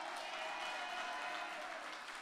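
An audience at a community meeting claps, a steady, fairly soft wash of applause that continues throughout without a break.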